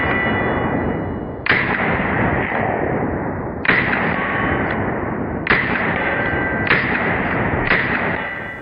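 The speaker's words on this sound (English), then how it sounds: "watch the impulse on my shoulder as I'm firing" A rifle fitted with a Lantac Dragon muzzle brake fires five sharp, loud shots at uneven intervals, each report followed by a long decaying boom.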